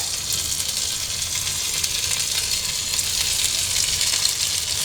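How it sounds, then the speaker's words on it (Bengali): Tomatoes frying in a pan for cauliflower bharta, giving a steady, fairly loud hiss and crackle of oil that runs unbroken throughout with no voices. "টমেটোগুলো এখন আমি এখানে একটু করে নেব, সেদ্ধ করে নেব বা ভেজে নেব ফুলকপির ভর্তাতে দেওয়ার জন্য।"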